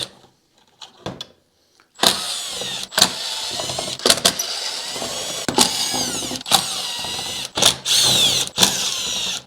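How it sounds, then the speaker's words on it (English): Phillips screws and small clips being removed from a 1972 Ford Maverick tail light, heard as bursts of a power driver whirring with clicks and rattles between runs, loud and close, no talking. "you've got a whole bunch of Phillips screws in here and little clips. You're gonna go ahead and take all those clips off."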